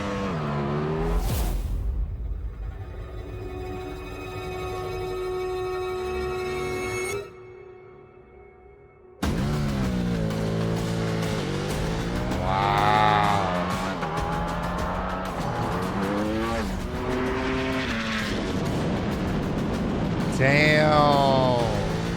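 Lucid Air Sapphire electric sedan and Bugatti Chiron hypercar in a drag race: loud engine roar with rising, sweeping gear-shift tones, a brief lull and cut, then sustained high-revving acceleration with overlapping whines and talk.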